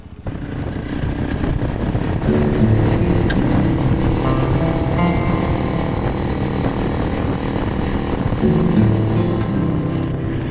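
A group of motorcycles rides together out in the bush, their engines producing a loud, steady, continuous roar with a deep throbbing drone that holds throughout.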